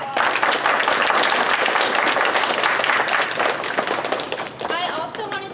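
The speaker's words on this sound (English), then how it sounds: "Can we give them another round of applause?" An audience at a fourth grade school presentation claps and cheers loudly in a sustained round of applause, fading toward the end as a voice begins speaking.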